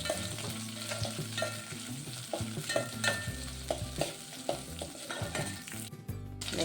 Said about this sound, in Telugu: ఇప్పుడు పచ్చిమిర్చి వేసుకున్నాము.